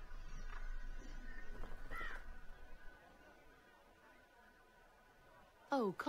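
Birds in the Dragon Age Inquisition Trespasser game call with harsh crow-like caws, a few scattered cries early on and a sharper burst near the end, mixed with background chatter and ambient murmur.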